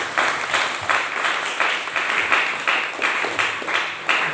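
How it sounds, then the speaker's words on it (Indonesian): A church congregation at a Pentecostal Christmas celebration claps in unison, loud rhythmic rounds of clapping in steady pulses, close and continuous. "Berikan tepuk tangan yang paling meriah bagi Tuhan"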